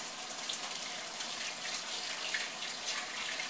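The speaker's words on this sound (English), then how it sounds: "I'm gonna wash my hand real quick" Tap water runs steadily into a kitchen sink as hands are washed during cinnamon roll baking, a constant close splashing hiss with no talking.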